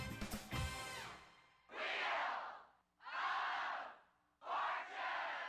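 A TV game show studio audience on Wheel of Fortune roars and cheers in loud bursts, three swelling waves of crowd noise broken by brief pauses.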